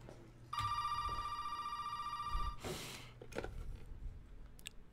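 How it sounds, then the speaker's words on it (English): An old telephone rings in Resident Evil 7 with a single long, bright electronic ring that starts after a quiet moment and cuts off, followed by a clunk and faint handling noises in a dim room. "Can I answer this phone?"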